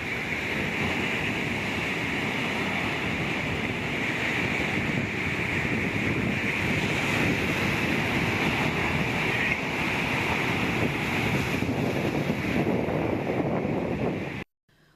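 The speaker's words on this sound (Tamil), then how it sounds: "வழக்கத்திற்கு மாறாக கடல் அலைகள் உயரமாக எழும்பி வருகின்றன." Rough, high sea waves pound the beach at Auroville during a cyclone, a loud, continuous roar of surf with steady wind noise across the microphone and no voices.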